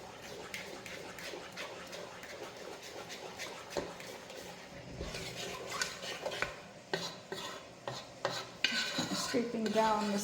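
A utensil scrapes and stirs around the sides of a pot of brown sugar icing, making continuous rasping scrapes with irregular metallic knocks that grow louder toward the end.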